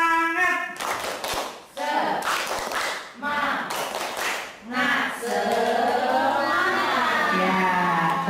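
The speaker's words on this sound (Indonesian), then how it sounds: "Tepuk semangat." A group at a teacher training session claps a rhythmic spirit-clap pattern of quick, sharp bursts separated by brief pauses, with voices chanting along throughout.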